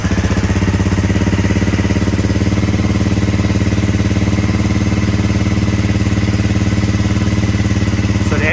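A cold Honda CB300R with an Akrapovic exhaust idles steadily in neutral, its engine giving a loud, close, even thrumming pulse that holds unchanged throughout.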